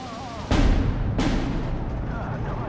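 Mortar fire in the World War II strategy game Steel Division 2, two heavy booming launches about a second apart with long rumbling tails, heard over steady low battle noise.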